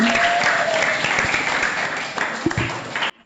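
Steady applause from a group of listeners, dense and sustained for about three seconds at a fairly loud level, with a faint tone running underneath, then cutting off abruptly.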